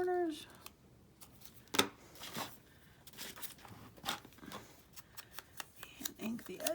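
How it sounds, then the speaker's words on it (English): Scissors make several crisp snips at the corners of handmade paper envelopes folded from index cards and book pages. The short, close cuts are spaced irregularly and mixed with light paper rustling, and a voice talks quietly underneath. "we'll do a little snip of the corners"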